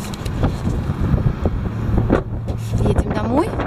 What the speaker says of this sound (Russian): Блин, какой ветер